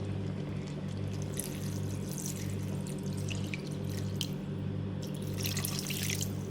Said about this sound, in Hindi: अब इसमें पानी डालूंगी चिकन में।